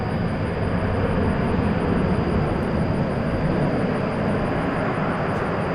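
An airliner back from a short nine-minute hop taxis at a busy airport, a constant, fairly loud engine rumble and hiss with a thin high whine on top, unbroken and with nobody talking.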